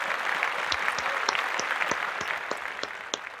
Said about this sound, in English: Applause for you one more time.